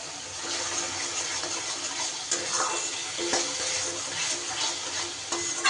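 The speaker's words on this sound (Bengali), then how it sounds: "সুন্দর করে কষিয়ে নেব যতক্ষণ না তেল ছাড়ছে।" Spice paste stirred and fried in oil in a pan for a vegetarian curry, a steady sizzling hiss with scraping stirs throughout, alone with no talk.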